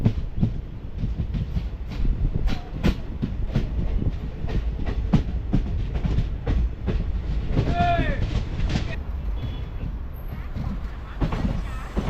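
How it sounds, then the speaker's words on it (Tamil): A passenger train rumbles and clatters steadily with rhythmic wheel clicks, a brief squeal rising near the middle, as it rolls slowly into Kozhikode railway station. "இப்போது ட்ரெயின் இந்த கோழிக்கோடு ரயில்வே ஸ்டேஷனுக்குள்ளே தான் என்ட்ரு ஆகிட்டுருக்கு"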